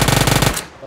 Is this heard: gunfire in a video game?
yes